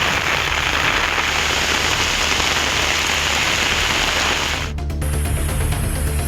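Heavy rain pours down in a sudden downpour over Dindigul town, a dense, steady roar of drops hammering surfaces, loud and continuous throughout with no voices.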